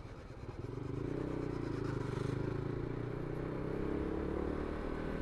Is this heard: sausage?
no